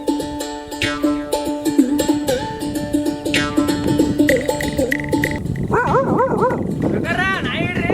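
A farm dog barks repeatedly at close range in a rural farmyard, sharp woofs and yelps mixing with loud overlapping shouting from several people throughout.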